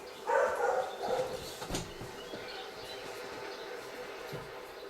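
A loose dog barks a few times near the start, the barks fairly close and loud before fading into steady background noise for the rest of the stretch.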